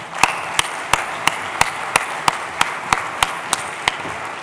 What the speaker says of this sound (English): So please help me welcome with a big round of applause for Dan Haley.